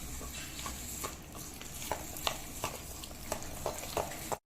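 Palmyra sprout cake mixture being stirred in a pan, with a soft steady sizzle under repeated scraping strokes of a spoon at a fairly regular rhythm, close up and fairly quiet, ending abruptly.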